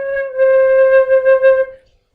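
A tin whistle plays its bottom note, one steady, pure, soft tone held for under two seconds and then released into silence.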